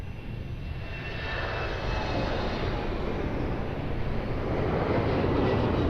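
A passenger airplane takes off from runway 02 at Lisbon Airport, its jet engines building into a loud, sustained roar that swells steadily as it accelerates.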